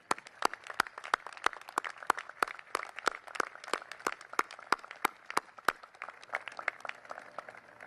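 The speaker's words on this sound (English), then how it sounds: "Cadets, would you please join me in a round of applause for your family?" Cadets applaud their families at the U.S. Coast Guard Academy ceremony, heard as sharp, distinct claps in a fairly steady rhythm over a soft wash of crowd sound, thinning out after about six seconds.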